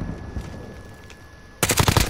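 Automatic gunfire in a Call of Duty Warzone match: after a quiet stretch of low background ambience, a loud, rapid burst of shots breaks out and continues to the end.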